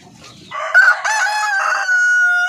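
Chocolate Orpington chickens cluck and crow close by, a rooster's drawn-out cock-a-doodle-doo rising over soft clucking in a clear, loud run on a Filipino backyard farm.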